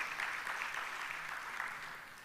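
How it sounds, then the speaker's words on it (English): A crowd claps together at an ICAI Dubai chapter conference, a dense, steady patter of applause that carries evenly through the short stretch, with no voices above it. "Can we a big round of applause?"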